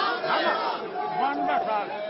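Dense crowd of thousands at Mulayam Singh Yadav's funeral, a loud, continuous murmur of many voices and shouts close around, with a nearby voice talking over it.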